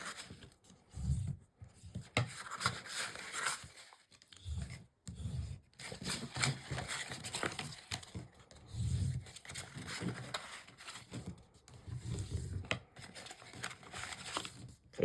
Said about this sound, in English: going to burnish each one at a time.